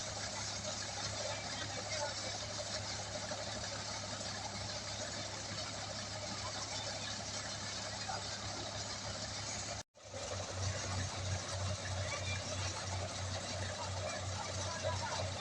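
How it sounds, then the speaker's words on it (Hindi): A tractor-powered paddy threshing machine that also winnows the grain runs steadily at a village harvest, its constant droning hum with a low engine throb continuing loud and close, briefly cut off once before resuming. "ये खुद ही ओसाने का भी काम कर देता है ये मशीन"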